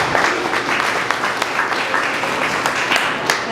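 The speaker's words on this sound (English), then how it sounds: "I think we all want to give her a applause" Audience applause at an event, a dense continuous wash of many hands clapping, steady and fairly loud throughout without a break.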